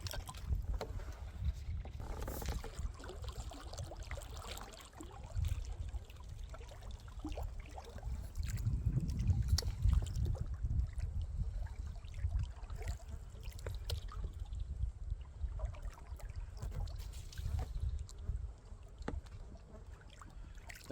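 A canoe turns around on an Adirondack lake. Soft water swishes and paddle sloshes mix with gusty wind buffeting the microphone, a low rumble swelling midway, all close and continuous without speech.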